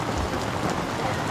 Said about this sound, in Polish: A jednak teraz to dopiero pada.